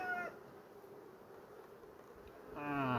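Honeybees buzzing inside a beehive make a steady, dense, close hum throughout, with brief higher tonal sounds at the start and end.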